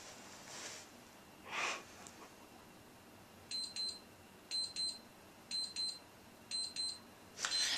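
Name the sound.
alarm clock beeping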